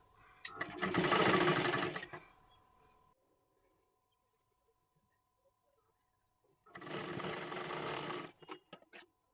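An electric sewing machine stitches large pleats gathered around a fancy dress made from a Kathpadar saree, running in two loud bursts of rapid stitching separated by a quiet pause.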